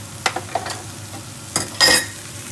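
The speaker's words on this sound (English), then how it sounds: "Now I want a quick stir fry" Whole cabbage being stir fried in a hot pan on a stove, with a few short scraping stirs and then a louder burst of sizzling near the end, heard close up.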